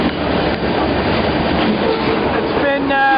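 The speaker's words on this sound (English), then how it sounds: "Still on the same train here." A freight train rolling on the rails during trainhopping, a loud constant rumbling roar with metallic rattling and squealing tones near the end, heard up close from aboard.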